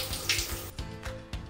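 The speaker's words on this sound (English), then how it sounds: "Watch as the hook hangs a 12-pound dumbbell, even with consistent pouring water running on it." Water from a tap pours steadily onto a suction hook holding a 12-pound dumbbell, a close splashing run with irregular gurgles and splatters in a quiet indoor space.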